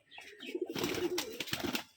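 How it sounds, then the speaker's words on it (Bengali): Pearl-eyed male pigeons on a Rajshahi gerebaj pigeon farm coo in low, rolling phrases, close and steady, with a busier stretch of cooing and rustling in the second half. "এখানে একটা মতি চোখের নর কবুতর নিয়ে আসছে ভাই"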